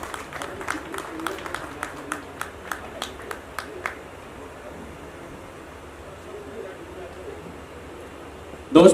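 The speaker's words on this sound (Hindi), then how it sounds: "पुरजोर तालियों से इस्तकबाल करें।" At a music video launch event, about a dozen sharp, evenly spaced hand claps ring out over a low room hum, then fade to near quiet before a sudden thump at the end.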